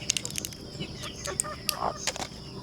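Chickens at a backyard poultry farm make scattered short clucks and calls at moderate distance. The calls are brief and irregular over a steady farmyard background, with no talk over them.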